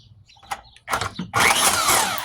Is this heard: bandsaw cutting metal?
yes